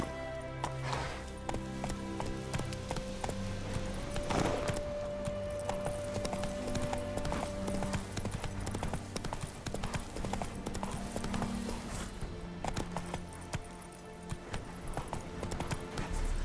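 Hooves of Roach, Geralt's horse in The Witcher III video game, clip-clop in a fast steady galloping rhythm under game music and ambient tones.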